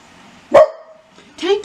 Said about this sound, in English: they don't want to hear you barking